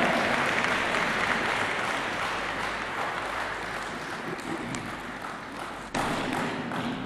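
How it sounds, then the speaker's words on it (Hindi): Audience at a ceremony applauds to welcome Prime Minister Imran Khan, sustained dense clapping from a large crowd that fades slightly then swells again near the end, with an occasional thump. "ख़वातीनों हज़रात इस्तकबाल कीजिएगा आपकी भरपूर तालियों में वज़ीर आज़म पाकिस्तान इमरान ख़ान"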